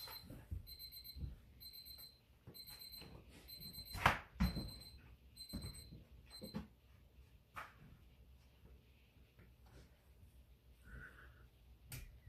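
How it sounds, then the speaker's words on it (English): An alarm clock goes off indoors during a lecture, repeated high electronic beeps in rapid bursts over the first few seconds, followed by handling clicks and thumps as it is dealt with, then quieter stray noises. "I have an alarm clock that I don't know how to turn off."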